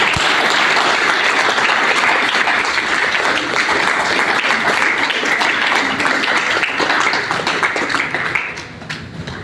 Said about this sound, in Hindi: हम लोग तालियों की आवाज को कम नहीं होने देंगे।